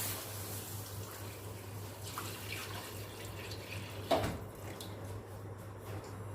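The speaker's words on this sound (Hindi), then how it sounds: "1 लीटर दूध है जो पैन में डाल दूँगी" A liter of milk runs steadily into a pan as a soft continuous liquid pour with a faint low hum behind it, and one brief knock near the end; no one talks.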